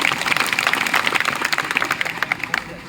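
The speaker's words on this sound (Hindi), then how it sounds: "एक बार ताली वाली बजाओ अच्छे से" An audience at a Hindi comedy poetry show claps steadily and loudly, a dense crowd applause that slowly thins toward the end.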